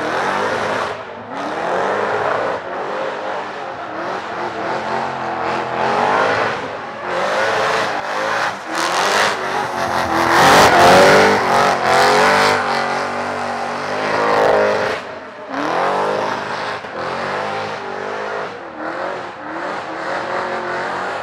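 Supercharged V8 car accelerating hard around a race track, engine roaring loud and close for the whole stretch with rising revs, gear shifts and a peak of intensity midway.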